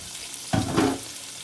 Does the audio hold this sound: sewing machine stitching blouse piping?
no